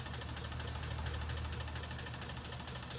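Tractor engine in the farming game Landwirtschafts-Simulator 19, a steady rough rumbling drone with a knocking texture that holds at an even level throughout, with no talking.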